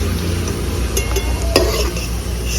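Potatoes frying in oil in a pan, with a steady close sizzle throughout and a brief clatter or stir partway through.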